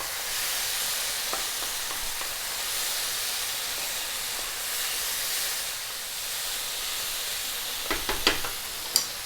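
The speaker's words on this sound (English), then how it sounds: "we're going to go in with like a tablespoon of the red curry paste. And we're just going to work this in for about another 2 to 3 minutes" Red curry paste stirred and frying in a pot for pork sausage tom yum soup: a steady, moderately loud sizzle and hiss throughout, with a few sharp spoon scrapes and clicks near the end, no talking.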